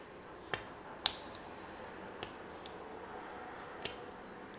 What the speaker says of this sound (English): My scissors are a little bit worn and did not cut that exactly clean